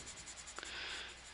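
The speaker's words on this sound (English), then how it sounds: "You just press a little bit lighter with your pencil." Pencil shading on paper during a sixth-grade drawing lesson of a telescope: a soft, steady graphite rasp, faint and close, with a couple of brief ticks partway through.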